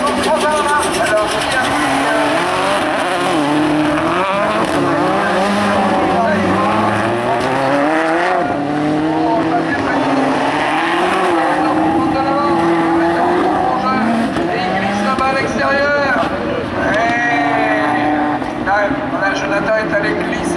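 Rallycross Supercars racing at Lohéac, engines roaring and revving continuously with tires sliding, loud and close throughout, under fast French race commentary.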